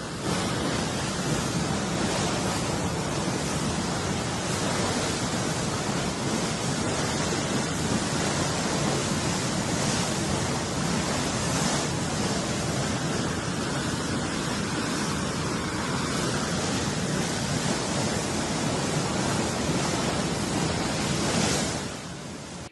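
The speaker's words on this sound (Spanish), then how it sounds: "Así se observa el nuevo orificio de donde se emana gran cantidad de lodo, gas, agua y crudo." A new oil well hole gushes mud, gas, water and crude, a constant, dense roaring hiss that holds steady and loud for the whole stretch with no voices.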